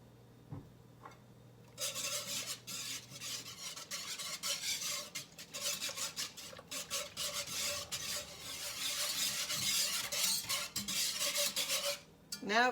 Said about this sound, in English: I'm just going to start mixing the milk into the water